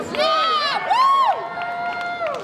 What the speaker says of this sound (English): There's speaks. 3 people going, woo!